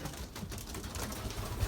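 Young racing pigeons coo in a loft, a low soft murmuring close by against a steady background hiss, with no talking.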